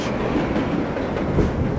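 Subway train in World of Subways 4 at a station stop, heard as a dense, loud, continuous rumble and rattle of the carriages close up, with no voices over it.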